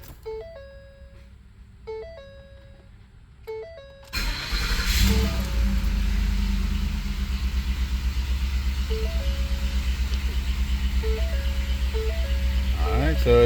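A 2010 Ford F150 with a 5.4L engine and a misfire cranks and starts after a few seconds of repeating warning chimes, then settles into a loud, steady idle as the chimes sound again.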